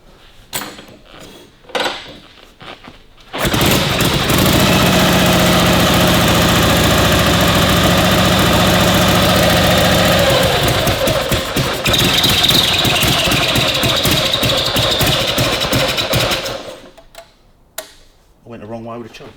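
A Harley-Davidson WLA motorcycle engine idles loudly and steadily after a choke adjustment during oil-leak repair work, a broad continuous running sound with a ticking valvetrain that holds for about thirteen seconds and then cuts off, with brief talk around it.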